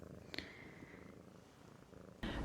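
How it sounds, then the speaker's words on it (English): A pet cat purring softly while resting on a person's lap, a low, steady, faint rumble running continuously, with a brief click near the start and a sudden louder rustle at the end. "She purrs if she's on me"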